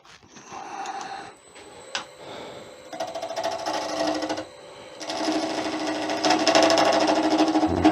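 An HDPE mallet blank is faced off on a wood lathe in a shop, a steady whirring drone with harsh scraping bursts as the tool bites in, louder and rougher toward the end, no talk.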